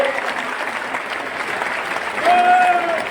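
Crowd at a memorial hall event applauding steadily, a dense, even roar of many hands that swells slightly near the end, with a voice faintly heard through it.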